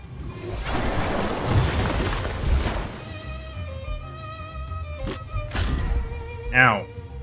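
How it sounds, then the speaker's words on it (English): A loud rushing gush of water blasts for a few seconds in the video game Temtem, followed by game effect tones and brief sharp hits, with a voice speaking over parts. "Have a water cannon, Buki."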